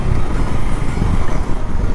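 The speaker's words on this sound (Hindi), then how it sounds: "हवा बहुत ज़्यादा है गाड़ी में" Heavy wind buffeting the microphone while riding a BS6 Bajaj Avenger 220 cruiser motorcycle, a loud, continuous low roar and flutter with the engine buried underneath.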